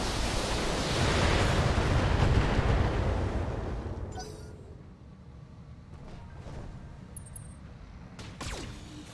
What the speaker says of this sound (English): Firing all weapons.